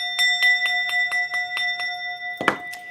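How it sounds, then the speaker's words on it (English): A small bell is struck repeatedly in an even rhythm, about eight ringing taps with sustained metallic tones, followed by a louder clattering strike near the end, close up in a quiet room. "I am going to be hitting the bell."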